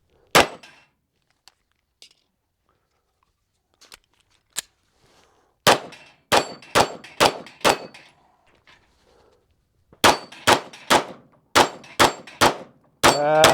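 Springfield Echelon pistol firing at steel targets: a few scattered shots, then two rapid strings of loud, sharp reports with ringing clangs from steel, spaced evenly and close by.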